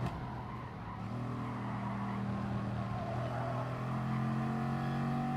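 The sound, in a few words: race car driving in a racing video game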